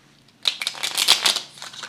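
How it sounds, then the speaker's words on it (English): A deck of playing cards gets riffle-shuffled by hand, a close, crisp fluttering burst of rapid card flicks lasting over a second, with no talking. "I am a miserable shuffler of cards"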